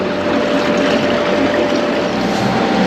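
A sailboat motors out of a Swedish channel under engine power with the mainsail up, giving a steady, loud, unbroken drone mixed with water wash close by.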